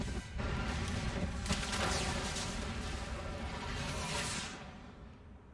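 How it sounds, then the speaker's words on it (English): A huge explosion in the video game Mass Effect Legendary Edition, a loud rumbling blast with crackling debris that roars for several seconds and then fades out. "That is a big explosion."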